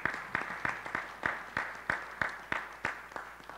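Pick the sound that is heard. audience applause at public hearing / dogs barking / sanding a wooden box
audience applause at public hearing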